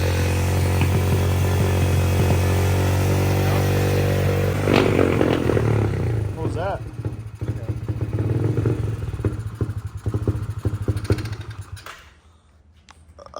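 An Extreme 110 pit bike engine idles high with a steady, buzzing drone and some clattering, holding for about twelve seconds before it suddenly drops away near the end.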